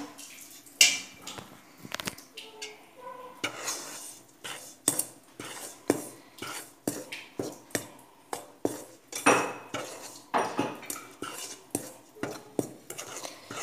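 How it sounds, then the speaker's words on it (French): Sugar and yeast are stirred together in a bowl while making a chicken skillet pizza. A spoon clinks and scrapes against the bowl in a quick, repeated rhythm, close and clear, with no talk. "je vais d'abord ajouter le sucre et la levure. Je vais d'abord mélanger ça."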